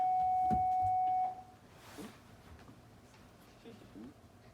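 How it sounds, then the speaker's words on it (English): An elementary school bell sounds as a steady electronic tone for just over a second and then cuts off, leaving quiet room noise and faint talking. "oh, is that just the bell? I thought it was an announcement."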